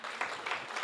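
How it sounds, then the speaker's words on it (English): Audience applause at a book launch, short and fairly quiet, a patter of clapping hands lasting under a second. "We can also clap for that."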